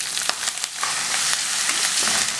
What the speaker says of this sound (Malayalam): ഇഞ്ചി ഇതേപോലെ നീളത്തിൽ അരിഞ്ഞെടുത്തിട്ടുണ്ട് അതിട്ട് മൂപ്പിച്ചെടുക്കുക